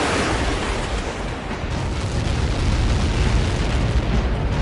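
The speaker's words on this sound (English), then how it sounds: "How many got caught in that explosion?" A sustained, loud roaring rumble of a massive explosion in the video game Ace Combat 7, dense broadband noise with no pauses, swelling slightly toward the end.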